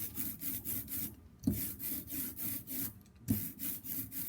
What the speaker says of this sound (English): roll across until you get an even coat of ink on your brayer